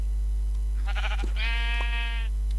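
A single Minecraft sheep bleats once, a wavering, nasal cry in the middle of a steady low background hum.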